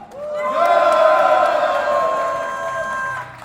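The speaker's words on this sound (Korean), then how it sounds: "여러분들 힘찬 함성으로 오늘 기자회견 시작하겠습니다" A crowd at an outdoor press conference by environmental groups lets out a loud, sustained cheer and whoops, rising quickly and holding for about three seconds before trailing off.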